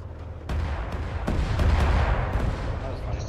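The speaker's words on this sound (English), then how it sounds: "Opening fire." Gunfire in the ArmA 3 Cold War operation set around Rosche, West Germany, with heavy repeated shots and booming bursts over a rumbling low battlefield din, fairly loud and continuous throughout.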